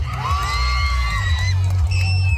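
A pageant audience at a Miss Gay fiesta event cheers, whoops and shouts, with high excited voices rising over a loud rumbling crowd and music in a short, lively burst.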